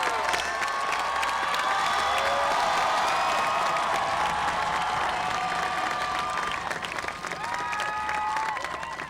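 Sustained applause from a large audience at a high school commencement ceremony for the Class of 2000 in Beverly Hills, steady dense clapping with scattered whoops and cheers throughout, fairly loud and continuous.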